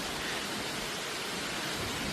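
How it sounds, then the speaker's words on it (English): Heavy rain driven by strong wind as a hurricane approaches the Jamaican coast, a steady dense hiss with low rumbling gusts, continuous and close, with no voices. "It's getting a lot more rainy,"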